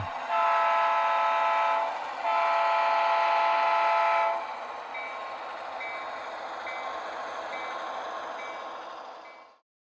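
A DCC-controlled model railroad train hums along steadily with a faint mechanical whir, a pair of brief horn-like tones near the start, then softer repeating beeps before it stops abruptly.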